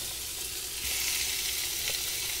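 Lobster and shrimp frying in butter give a steady, close sizzle that fills the whole stretch, a continuous hiss with slight swells and no voices.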